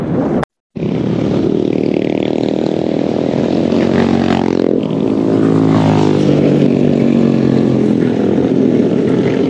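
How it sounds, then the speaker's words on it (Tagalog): Motorcycle engines roar by on a road in Infanta, Quezon, a loud, continuous drone of several bikes with rising and falling pitch as they pass close, after a brief cut near the start, with wind buffeting throughout. "Daming motor."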